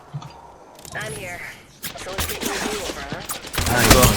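Gunfire in the game Apex Legends, bursts of shots from above crackling in and out amid the action, with players talking excitedly over them.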